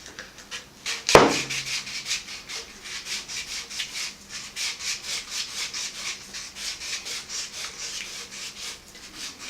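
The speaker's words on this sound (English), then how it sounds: "Using the sandpaper, remove the glance surface and turn it into matte." Sandpaper rubs back and forth over a PVC pipe surface to dull its gloss, a close rhythmic rasping of regular strokes after a sharp knock at the start, steady and alone.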